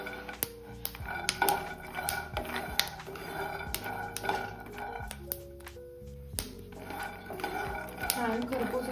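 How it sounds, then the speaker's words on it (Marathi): Peanuts dry-roasting in a pan over medium gas for fasting ladoos, stirred with a utensil that clinks and scrapes against the metal in an irregular, close rhythm throughout, with no talk. "शेंगदाणे आपण मध्यम गॅसवर व्यवस्थित असे भाजून घेणार आहोत"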